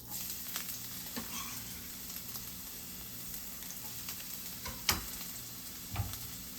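Shallots fry in hot rapeseed oil in a pan over medium-high heat, giving a soft, steady sizzle with a few brief stirring knocks and pops, no speech over it.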